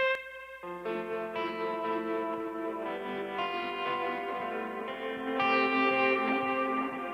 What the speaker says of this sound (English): So there's a delay echo on the right side.